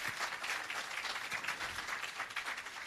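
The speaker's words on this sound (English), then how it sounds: "And you can give another round of applause for that." Faint, distant applause from an audience for the Prime Minister of Jamaica at the commissioning of an irrigation system and agro park, a soft continuous patter of clapping.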